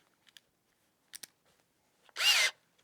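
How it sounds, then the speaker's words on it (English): A Milwaukee M12 cordless 3/8-inch hammer drill runs in drill mode, one short loud burst of motor whine with a rising pitch, preceded by a few faint clicks of handling. "Put it on drill."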